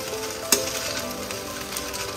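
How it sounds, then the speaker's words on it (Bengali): Food stirred in a pan on a low flame gives a soft, continuous frying hiss with a sharp clink of a utensil partway through and another at the end, and no talking. "ফ্লেমটা একদম লো করে এটাকে নাড়তে হবে।"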